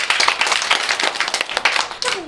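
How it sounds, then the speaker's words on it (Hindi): Young schoolchildren clap together in a classroom, a quick burst of uneven, close hand claps lasting about two seconds, with a voice briefly heard near the end. "ताली बजाओ।"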